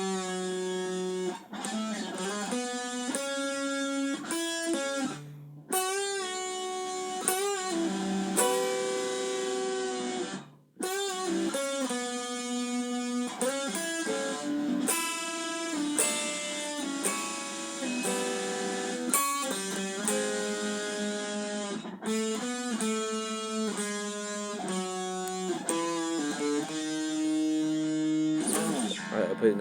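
An electric guitar plays a full solo at slow tempo, a long string of distinct sustained and bent notes with a few short pauses, heard alone and close.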